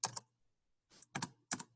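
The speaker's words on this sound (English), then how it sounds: "And then I'm typing this as I'm reading it" Keystrokes on a computer keyboard come in quick, close clusters of clicks with a short pause between bursts, crisp and alone with no talking.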